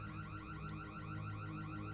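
A house alarm played back from a recording wails in a steady, rapidly repeating electronic warble, loud and continuous, with no voices over it.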